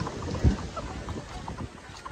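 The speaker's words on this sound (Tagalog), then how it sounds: "sobrang lakas ng hangin dito" Strong wind gusting across an open poultry farm, a broadband rushing roar with buffeting against the microphone, steady for about two seconds with one brief louder thump near the start.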